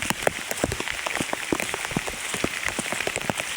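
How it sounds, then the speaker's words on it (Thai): Steady rain pattering on a surface, dense irregular drops close by, with no voices. "โอ้ฝนตกก็ไปเนาะ"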